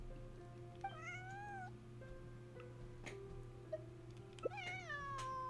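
A cat in a video game meows several times, with rising and falling cries spaced apart over a soft hum, the last one loudest.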